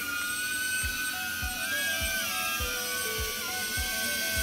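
DJI Avata drone with its motors running at takeoff, a steady high-pitched whine and buzz, close and loud, with faint rhythmic low thumps underneath.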